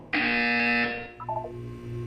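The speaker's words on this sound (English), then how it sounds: "When you hear the buzzer, look up at the ceiling." A loud, harsh electronic buzzer from the game Portal 2 blares for about a second, followed by a short series of quieter beeping tones.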